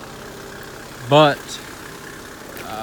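A Mercedes-Benz car engine idles with a steady low hum, and a person speaks briefly over it partway through.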